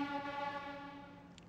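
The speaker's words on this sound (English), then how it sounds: "I can't even move the bloody train." A train and its horn sound in an arcade video game, a sustained harmonic horn tone holding steady for about a second and a half at moderate volume over a faint rumble, with no talk.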